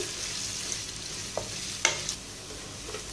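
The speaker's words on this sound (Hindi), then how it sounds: "प्याज को, लहसुन को और अदरक को हम लाइट सा गोल्डन करेंगे" Sliced onion, garlic and ginger frying in oil over a high flame, a soft steady sizzle with a few faint stirring clicks and scrapes, with no talking.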